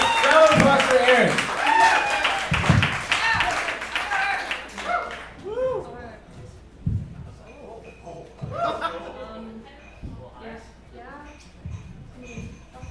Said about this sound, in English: Let's round of applause for Aaron